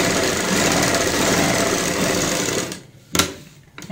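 A sewing machine with a single foot runs steadily and loudly as it stitches an invisible zip into a kameez or blouse, then stops abruptly with a few short clicks and handling knocks.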